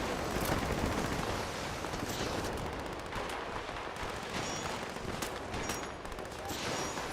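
Continuous gunfire from Fallout 76 crackles at a fairly low level, dense rapid shots running throughout with a few sharper bursts standing out.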